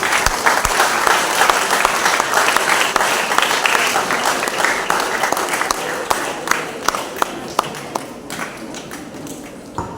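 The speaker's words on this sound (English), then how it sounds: "Please clap for our guests," Children clap for guests of honour at a school investiture ceremony, a dense, steady round of applause from a large group of young hands, with a few sharper, louder claps standing out toward the end.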